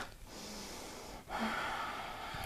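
During a yoga lunge twist, a sharp audible exhale cuts in midway and settles into steady breathy rushing of air. It is close and alone, with no talk.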